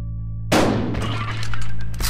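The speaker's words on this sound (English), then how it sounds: "And we're gonna shoot him." Shotgun blast in Buckshot Roulette: a sudden loud boom cuts through a low humming drone, then a rattling, crackling decay follows, with a second sharp impact near the end.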